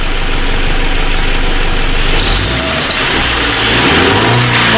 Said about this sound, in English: Just rev up a little bit the engine.